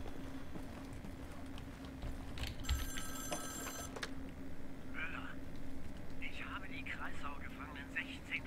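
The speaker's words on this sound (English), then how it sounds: "It's a phone ringing." A telephone rings in the video game Wolfenstein: The New Order, a steady electronic bell trill of about a second and a half standing out over a constant background hum, with faint chirpy sounds following.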